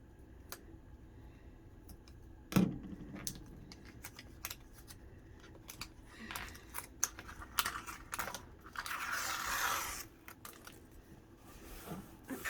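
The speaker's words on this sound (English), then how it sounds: "I can go ahead and remove my other tape backings" Tape backings are peeled and pressed down while an ephemera book is being crafted, giving soft crinkles, small clicks and a sharp snap, with a longer rustling stretch of handling near the end, close and fairly quiet.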